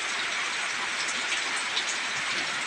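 Steady rain falls outdoors in rural Thailand during a power outage. It makes a dense, even hiss with scattered patter and droplet ticks, continuous and moderately loud, with no voices.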